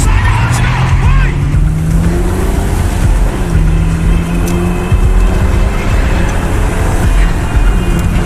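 A stolen car speeds off loudly nearby, its engine revving and rising in pitch with tire squeal, while someone shouts over it.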